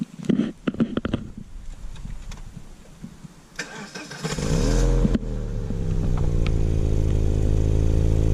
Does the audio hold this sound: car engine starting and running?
yes